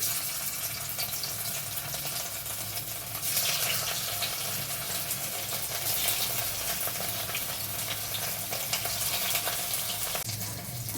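Chital fish muitha dumplings frying in hot mustard oil in a kadai, giving a steady, loud, dense sizzle with bubbling crackle that continues throughout, with no talking.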